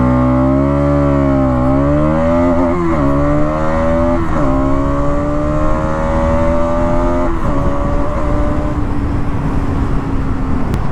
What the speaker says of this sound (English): Actually this has got a very nice exhaust note.